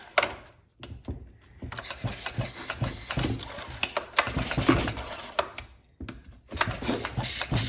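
Repeated pulls on the starter cord of a Stihl MS261 chainsaw during a compression check show a series of rapid rasping, chugging strokes in quick bursts with brief pauses between them, close and fairly loud, and no talk.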